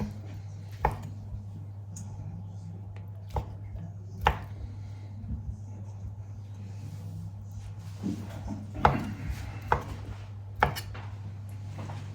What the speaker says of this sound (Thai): ส่วนตับไก่เราหั่นชิ้นใหญ่ๆเลยค่ะ